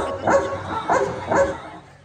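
A man imitates a dog barking at a village home game show, giving three short yelping woofs in steady rhythm, close and fairly loud.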